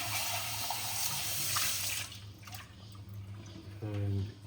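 Tap water runs over a Breville coffee tamper in a sink, a steady close splashing stream that drops away halfway through, followed by quieter trickling and a brief hum with a voice at the end.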